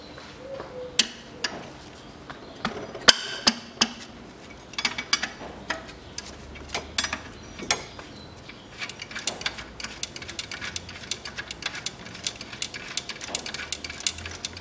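A wrench loosens a bolt on the alternator of a 2001 Nissan X-Trail, giving a run of sharp, irregular metallic clicks and taps close by, with no talking.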